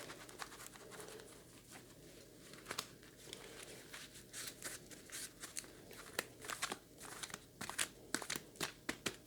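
A deck of board game cards from a wargame is shuffled, giving soft crinkling riffles that build into sharp, rapid clicking bursts toward the end, close and alone.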